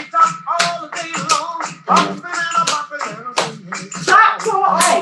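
Hands pat on thighs in a steady repeated rhythm during a hand jive dance lesson, the sharp close pats mixed in with a voice counting and instructing.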